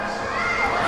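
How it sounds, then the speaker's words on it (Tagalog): Boxing arena crowd cheering and shouting throughout, a dense, continuous roar of many voices that swells slightly toward the end. "Talagang buong crowd enjoying every punch."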